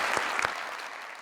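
Studio audience applause on a talk show, a dense burst of clapping that carries steadily for just over a second with no voices over it.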